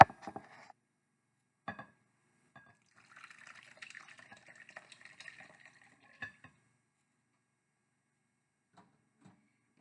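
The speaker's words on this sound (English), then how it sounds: "That's buttermilk. Okay, and I'm going to carefully pour that into the center well." Buttermilk poured into a well in flour for Irish soda bread, heard as soft, quiet liquid trickles and splashes in short bursts, with a longer pour in the middle and a few faint clicks.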